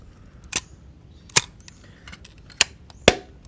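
A black Nikon Nikkormat FT3 film camera firing its shutter in bulb mode: four sharp, crisp mechanical clicks close to the microphone, unevenly spaced, with quiet gaps between them.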